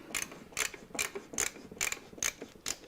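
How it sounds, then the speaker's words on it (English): An old screwdriver's ratchet clicks in seven evenly spaced, crisp bursts, close and alone, with no talking. "One of my daughters used to just get a hold of that screwdriver and play with it with the ratchet."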